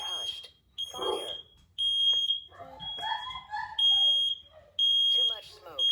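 A smoke alarm shrills in loud, piercing repeated beep bursts while a synthesized voice announces warnings between them, and a person speaks over the noise.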